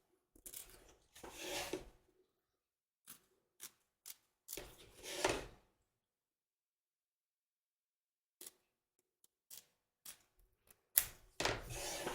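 Scissors trim excess fabric away from the front and back of an embroidery hoop in short, separate snips and rustles, with quiet gaps between the cuts.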